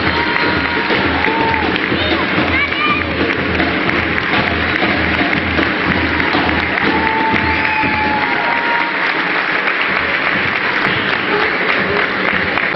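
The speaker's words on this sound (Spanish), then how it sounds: "Fuerte aplauso para Ariel Díaz." Sustained applause from a crowd at a sports club's awards celebration for third division champions, dense clapping continuing steadily for the whole stretch with scattered voices in the room.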